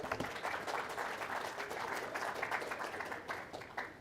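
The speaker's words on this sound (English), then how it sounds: "Everyone give Ian a round of applause here." An audience at a live tech conference gives a guest a round of applause. The clapping is soft, dense and continuous and sounds somewhat distant, fading slightly toward the end.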